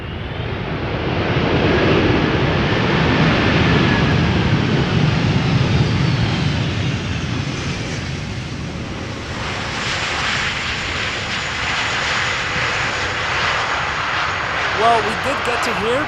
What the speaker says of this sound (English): we did get to hear the reverse thrust being applied